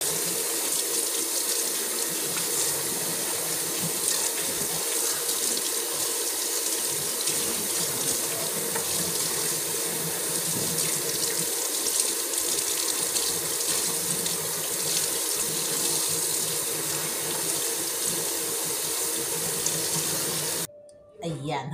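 Okra and pechay are washed under a running kitchen faucet, a loud, steady gush of water splashing over the vegetables in a sink that runs without pause before cutting off briefly near the end.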